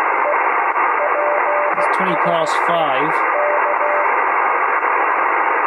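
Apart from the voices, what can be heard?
German amateur radio station received on 80m four square antenna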